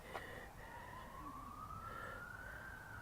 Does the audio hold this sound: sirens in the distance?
yes